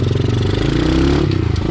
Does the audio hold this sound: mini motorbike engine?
yes